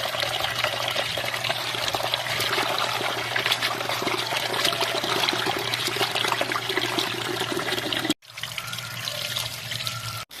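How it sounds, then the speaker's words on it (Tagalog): Tap water runs steadily into a kitchen sink while vegetables are rinsed by hand, making a continuous close splashing trickle that stops briefly near the end and then starts again. "hinugasan ko na nga rin yung iba pang mga gulay"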